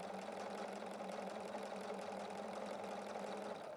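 Bernina sewing machine with a ruffler foot set for straight sewing, a close, continuous motor whir with fast regular stitch ticking throughout, no voice present.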